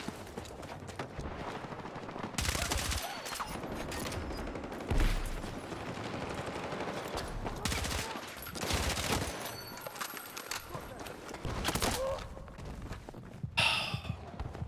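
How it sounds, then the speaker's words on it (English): VCR2 assault rifle fire in a first-person shooter match, bursts of rapid automatic shots recurring through the clip, loud and close, mixed with footsteps and movement noise, no talking. "I'm using the VCR2. It's the DLC assault rifle from season 2."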